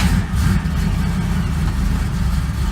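A 1972 Chevy C10 pickup engine with its carburetor choke set too lean runs at a rough, steady idle just after starting, a loud, close, low rumble throughout with no talking.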